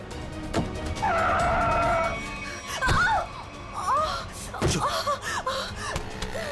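A car's tires squeal in a long, loud skid just before a near crash, followed by shorter screeches and thumps, with gasps and voices mixed in.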